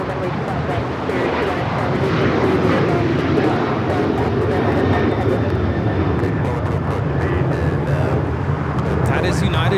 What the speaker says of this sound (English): That is United Airlines 2667 taking off to Washington Dulles on the 737-900ER.